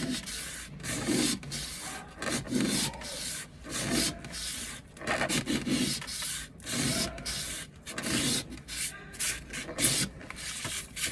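Slow, repeated scraping strokes by hand against a rusty kitchen knife blade being polished toward a mirror finish, a rhythmic gritty rubbing that comes and goes with short pauses between passes, close up and without talk.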